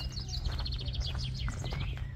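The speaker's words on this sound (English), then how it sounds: "The birds are going mad." Loud, busy chorus of birds calling in the gardens of Chatsworth House, England, with rapid overlapping chirps and whistled trills over a low steady rumble.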